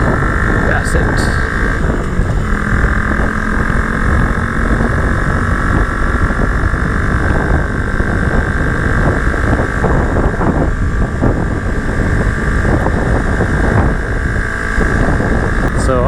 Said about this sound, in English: So I'm in 4th gear right now. It seems like it's puttering.